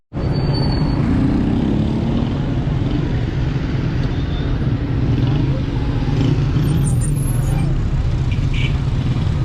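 Loud, steady roar of busy street traffic near a bazaar in Tehran, Iran, engines rumbling continuously close by with a faint high squeal now and then.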